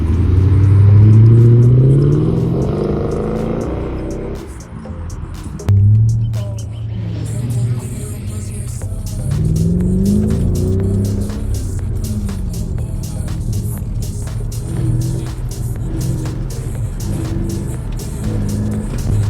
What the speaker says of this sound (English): So now we're gonna drive around a bit and see how it feels.